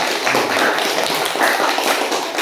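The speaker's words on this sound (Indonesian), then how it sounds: "tepuk tangan untuk kita" Brief classroom applause as Indonesian students clap for their group, a dense continuous patter of many hands at moderate loudness, steady throughout with no voices standing out.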